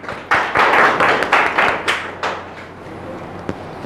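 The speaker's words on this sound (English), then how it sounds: "Great, round of applause." A short burst of clapping from a small group at a passive income workshop, a handful of close, sharp claps that thin out and fade within a few seconds.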